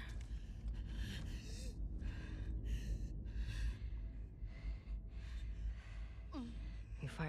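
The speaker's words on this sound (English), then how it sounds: "Your breathing's worse." Labored, ragged breathing of an injured character in The Last of Us Part 2, a series of gasping inhales and heavy exhales close to the ear, repeating raggedly, with a quiet voice murmuring briefly near the end.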